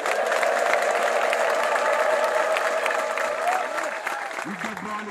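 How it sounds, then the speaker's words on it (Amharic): A church congregation claps densely and ululates in praise, a sustained wash of applause with a high trilling tone running through it that eases off toward the end, where a voice speaks briefly. "በእልልታ በጭብጨባ መስግኑ"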